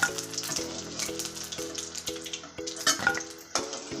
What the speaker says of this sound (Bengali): এইভাবে সবগুলা মোমো আমি তেলে ভেজে নেব।